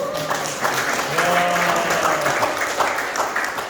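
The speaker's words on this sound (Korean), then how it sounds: "우리 박수 한번 주세요." Staff at a Daegu logistics center opening ceremony applaud a new employee, loud, close clapping from a small crowd with a few voices calling out over it.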